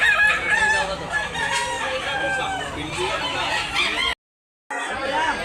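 Roosters crow and chickens cluck at a Talisay fowl market in Tabunok, Cebu, a dense, continuous chorus of birds close by, with people talking underneath and a brief cut near the end.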